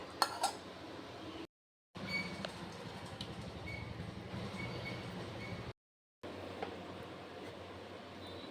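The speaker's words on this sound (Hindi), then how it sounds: "अब हम इसको मिक्सी जार में भर के और इस तरह से हम थोड़ा थोड़ा डाल के पीसेंगे।" A kitchen mixer grinder grinding kebab mixture whirs and rattles steadily in a loud continuous drone, briefly stopping twice before starting up again.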